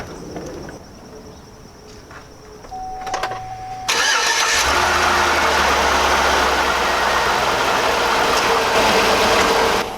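GMT-800 Chevrolet Suburban engine cranking and catching after an oil change, then settling into a steady, rumbling idle, close and loud after a few quieter clicks.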